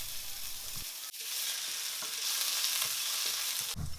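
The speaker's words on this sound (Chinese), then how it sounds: "锅烧热之后加一些油，先下姜蓉下去炒香。" Minced ginger stir-fried in hot oil in a wok, a constant bright sizzle nearby with scattered scrapes and taps of a spatula and a louder clatter near the end.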